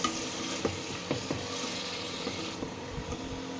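Chopped tomatoes frying in a pan for soup give a steady, close sizzle that is broken now and then by soft scrapes and clinks of stirring.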